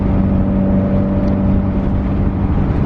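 A Stage 3 Subaru WRX running on E85 fuel pulls hard under acceleration, its loud, steady engine roar and exhaust drone filling the cabin closely and continuously without any voices.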